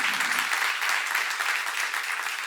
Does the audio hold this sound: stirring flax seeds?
no